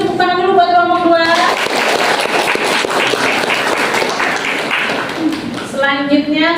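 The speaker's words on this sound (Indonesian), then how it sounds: "Kita kasih tepuk tangan dulu buat kelompok 2." Audience applause for a student group after their class project presentation at a university teaching session, a dense burst of clapping lasting several seconds, with a voice speaking briefly before it and again as it fades.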